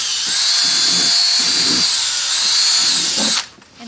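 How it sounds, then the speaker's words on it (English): A power drill bores aeration holes into the plastic lid of a 10-gallon worm composting bin, a loud steady high-pitched whine lasting several seconds before cutting off abruptly near the end. "So today we're going to use a 10-gallon bin and just simply drill some holes in the top."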